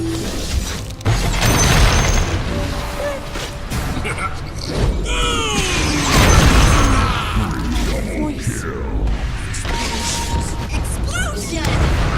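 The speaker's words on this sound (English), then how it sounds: "Explosion!" Techies detonating remote mines in Dota 2, a dense stretch of loud booming blasts and crackling bursts that runs the whole time, mixed with in-game effects and a voice line over the top.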